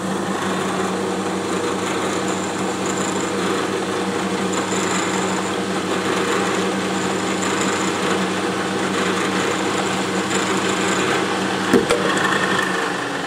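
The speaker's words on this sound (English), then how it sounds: "So we can machine that starting dimple for the long flexible tapping drill with that single lip D-bit cutter" A single-lip D-bit cutter machines a starting dimple and chamfer for tapping tiny threads, a steady high-pitched whine of a small machine spindle running continuously throughout, with faint mechanical texture and no talk.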